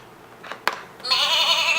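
Farm animal bleating, a single drawn-out sheep-like bleat following a sharp knock and faint rustle, loud and close.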